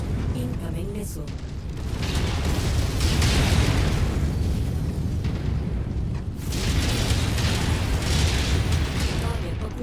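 Missile explosions pound in MechWarrior 5 as an LRM-armed King Crab mech fights, loud rumbling booms and bursts rolling in waves over a steady battle din, with voices talking over it.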